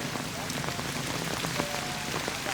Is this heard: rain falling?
yes